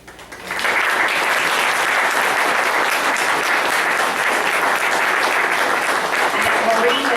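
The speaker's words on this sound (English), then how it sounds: "Let's give them a round of applause." A room full of people gives a sustained round of applause for the yard work volunteers, starting thinly and quickly swelling into loud, steady clapping that carries on unbroken to the end.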